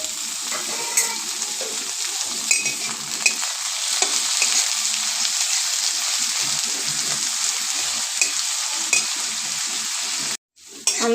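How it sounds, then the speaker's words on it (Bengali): Potatoes frying with gima greens in a pan on a gas stove give a steady, close sizzle with occasional stirring scrapes, running on alone until a brief dropout near the end. "আলুটা আমার ভাজা ভাজা হয়ে গেছে"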